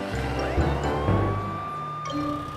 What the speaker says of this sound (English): Morphle, morph into a police car.